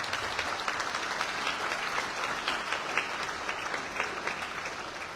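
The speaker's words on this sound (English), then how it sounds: "Don't you think it deserves a round of applause?" Dense, steady audience applause at an official launch ceremony for an executive mansion internship program, many hands clapping together at an even level throughout with no pauses.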